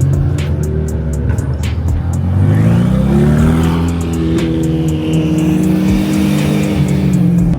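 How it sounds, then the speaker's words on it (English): A Ferrari 488 Pista rolls through an early-morning cars-and-coffee meet, its engine note loud and close, rising and sweeping in pitch as the car passes, with sharp popping bursts along the way. "I see a Pista 488 rolling through."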